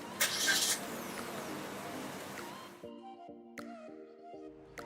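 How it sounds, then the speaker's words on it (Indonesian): A Suzuki All New Ertiga Hybrid car starts with its start-stop button, a noisy engine crank and catch settling into a steady close idle, followed by a few sharp clicks and tonal beeps from the cabin. "menyalakan mobil dengan menekan pedal rem dan menekan tombol engine start-stop"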